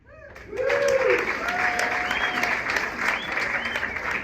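A comedy show crowd breaks into loud applause mixed with cheers and a few whistles, rising quickly and holding steady for several seconds.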